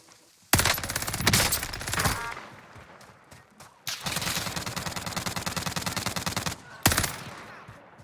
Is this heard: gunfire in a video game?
yes